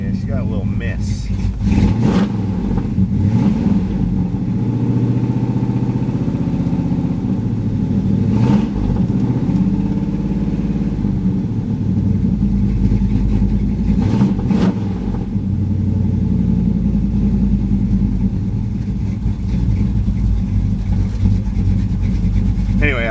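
Pontiac Firebird engine running with a slight misfire, a loud steady idle with an uneven lumpy pulse and occasional stumbles, with people talking over it.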